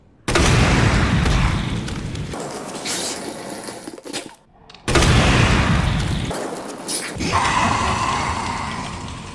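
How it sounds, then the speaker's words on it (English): Flame rounds fired at a Licker in the Resident Evil 2 video game: two loud, booming shots several seconds apart, each followed by a long roaring, crackling burn. "so 2 indirect hits with the flame rounds to defeat this liquor"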